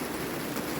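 Heavy summer rain pours down on a dacha garden in Visaginas, Lithuania, a dense, steady hiss of falling water that stays loud and unbroken throughout, with no voices.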